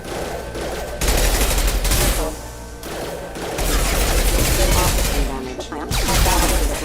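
Automated security systems open fire in the video game Mass Effect 2, with sustained bursts of gunfire and crashing impacts in a dense, loud mix alongside a synthetic voice making announcements.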